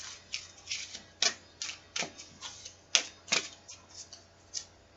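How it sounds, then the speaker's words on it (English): Tarot cards drawn and laid down one by one in a reading: a string of quick, crisp snaps and flicks in an uneven rhythm, close and fairly quiet, with no talking. "let's pull some cards here on advice"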